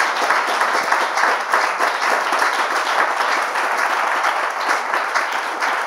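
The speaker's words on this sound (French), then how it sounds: "On peut l'applaudir" Audience applause, a dense, loud and steady clapping from a crowd, sustained evenly from start to finish with no talk over it.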